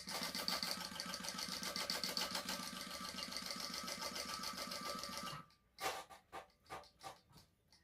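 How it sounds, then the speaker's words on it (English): A sewing machine runs in a fast, steady stitching whir around a box seam on a sling bag, close up, then slows into a few separate, slower stitches before stopping. "I'm just going to stitch around this box"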